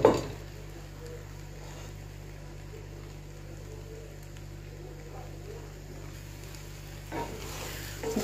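Orzo pasta with vegetables sautéing in butter in a pan, a steady low sizzle with faint scraping, fairly quiet and continuous, with a brief louder stir near the end.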